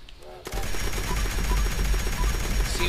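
Rapid automatic gunfire in the video game Fallout 76 erupts after a short quiet lead-in and hammers on continuously, loud and close, with a faint voice underneath.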